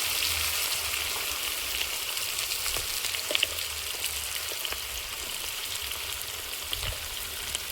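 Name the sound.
food frying in a pan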